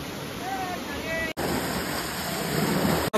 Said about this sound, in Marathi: अप्रतिम असा वॉटरफॉल आहे.